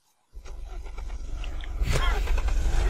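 A vehicle in the video game Unturned drives over a player: a loud, steady engine roar starts abruptly and swells louder midway, close and continuous.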